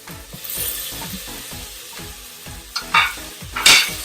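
Tomatoes are stirred into sautéing onions in a pan for chicken dum biryani, with rhythmic scraping strokes over a sizzle and a few louder hissing bursts near the end.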